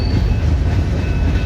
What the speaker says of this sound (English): Much of the entire weekend was of a BNSF manifest, led by BNSF 3774 with SJ70 ACE 8508 and SC40-2 1644 trailing.